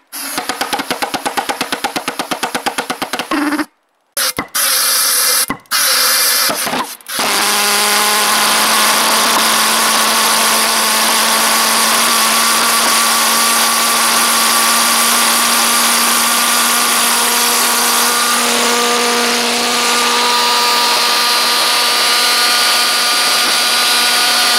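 A small pulse jet engine, modified to run, roars loud and steady close by, its pulsing drone moving a pile of laminated boards; a few sputtering bursts and brief dropouts come before it settles into a continuous buzzing howl.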